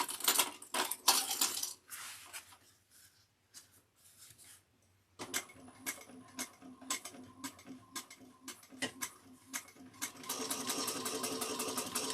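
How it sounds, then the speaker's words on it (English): Sewing machine back stitching a dart on the bottom of a backpack, with bursts of rapid mechanical clatter, a quieter pause in the middle, then repeated short stitching runs growing steadier and louder toward the end. "I just did a back stitch on each dart on the bottom"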